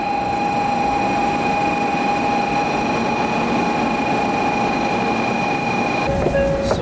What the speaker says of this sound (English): So back on another bullet train